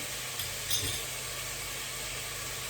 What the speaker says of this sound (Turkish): Şimdi bu baharatları kavurun.